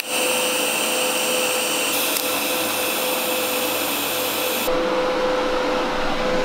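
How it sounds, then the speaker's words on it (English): MIG tack welds on a new rear-exit exhaust pipe for a 4G63-swapped Mitsubishi Mighty Max: a close, steady buzzing hiss that shifts its tone partway through and then stops abruptly. "So let's tack that up real quick."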